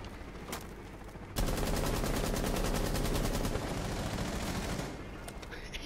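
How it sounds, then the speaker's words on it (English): Rapid automatic gunfire in Rainbow Six Siege, a loud sustained burst of several seconds following a few scattered shots. "Shooting randomly, I had no idea."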